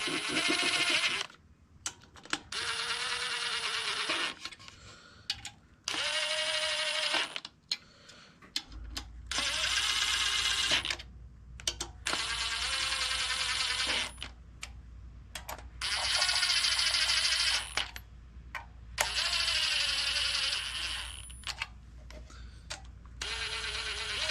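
Impact gun running down oil pan bolts on an LS4 V8 from a Grand Prix, in repeated bursts of high whirring and rattling with short gaps between, loud and close.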